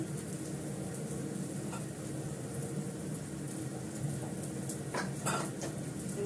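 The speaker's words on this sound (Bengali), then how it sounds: "ভেজে নিচ্ছি, গোল করে বেলে নিয়েছি।" Rolled round pieces of dough fry in a pan with a low, continuous sizzle, then a few light utensil clinks near the end.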